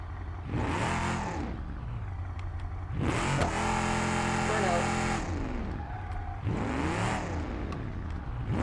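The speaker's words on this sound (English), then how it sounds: "I put race exhaust on it, so there's no muffler. it's just straight piped." A loud, raw, straight-piped muscle-car exhaust with no muffler revs hard three times in a driving video game, each burst climbing in pitch then dropping, with a rough, unmuffled growl between pulls.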